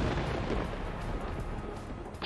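A heavy attack in the video game Castle Crashers lands as a dense, loud, rumbling blast of crunching noise that fills the whole moment before cutting off.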